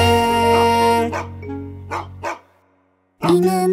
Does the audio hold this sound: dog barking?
yes